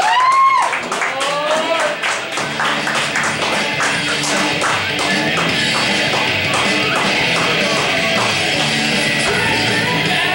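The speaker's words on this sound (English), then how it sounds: "John, everybody, give him a round of applause" An audience claps and cheers loudly throughout, with a whistle or whoop near the start, then dense, steady hand clapping that continues to the end.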